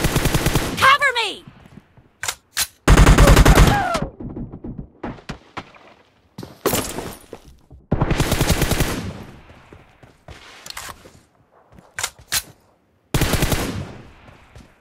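Assault rifle fire from a PUBG team deathmatch comes in loud, separate automatic bursts of varying length with short gaps between them. Thuds and brief game sounds fall in the pauses.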